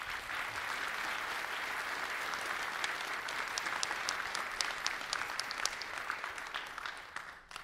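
Steady audience applause in a conference hall at a TypeScript talk, moderately distant with crisp individual claps that thin out toward the end.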